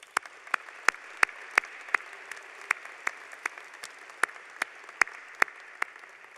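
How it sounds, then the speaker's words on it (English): An audience at a medical school white coat ceremony gives scattered applause, with sharp, separate claps repeating at an irregular, steady pace over a quiet hall. "A round of applause, if you would,"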